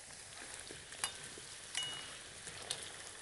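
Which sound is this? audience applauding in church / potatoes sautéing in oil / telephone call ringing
potatoes sautéing in oil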